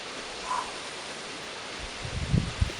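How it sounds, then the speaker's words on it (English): Soft, broad rushing wind fills the clip, with a few low buffeting gusts thumping near the end. "I hope you can hear this. Those are some wind gusts."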